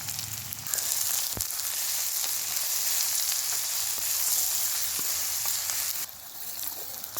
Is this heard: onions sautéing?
yes